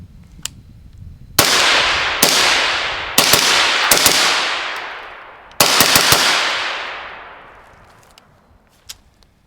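Rounds fired one after another through a Yankee Hill Turbo K suppressor, each a sharp, loud crack with a long decaying tail, grouped into close bursts with short pauses between them.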